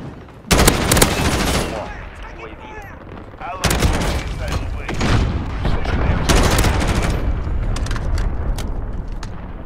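Gunfire in Call of Duty: Modern Warfare on a Ground War farmland map: loud bursts of automatic and single shots, sharp cracks and rattling volleys, with a few quieter gaps between the salvos.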